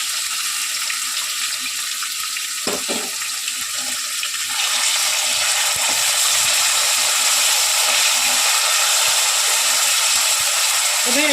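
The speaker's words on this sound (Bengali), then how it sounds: "এবার ম্যারিনেশন করা চিকেনটা এর মধ্যে দিয়ে দেবো।" Marinated chicken for keema peas pulao hits a hot pan with a loud, steady sizzling hiss that grows fuller and stronger about halfway through and keeps going to the end.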